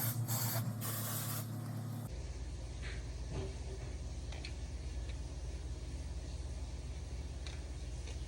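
Heat protectant hair spray, a loud hissing burst of spray lasting about two seconds up close, followed by steady low background hum.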